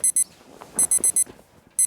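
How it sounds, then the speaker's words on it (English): An alarm clock rings in short, shrill bursts, with a few beeps in quick groups separated by brief gaps and faint background noise in between. "her alarm shook her up from her dreaming"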